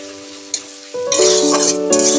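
Taro stolon curry with mustard paste is stirred in a pan, bursts of loud, close sizzling and scraping surging in over a steady humming tone in the background.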